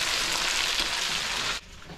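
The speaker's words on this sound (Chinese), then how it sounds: "还有这么多辣椒、蚝油和白糖， 翻炒。" Chili peppers being stir-fried with ginger, garlic, Sichuan peppercorns, oyster sauce and sugar in a wok, giving a loud, steady broadband sizzle that cuts off abruptly near the end, leaving a quieter crackle.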